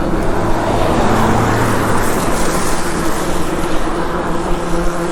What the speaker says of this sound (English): Car coming past.